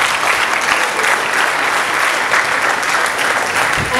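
Loud, dense applause from the audience at a stage musical production, continuous and even throughout, with no voices rising above the clapping.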